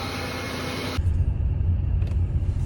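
Car engine idling after an induction system install, a steady low rumble heard close up that continues evenly after a broad hiss cuts off partway through.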